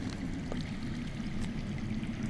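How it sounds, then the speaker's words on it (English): Water flowing underground in a Game of Thrones video game, a steady low rushing and trickling stream, faint and continuous, with no other sounds over it. "That's water. I hear water. From underground."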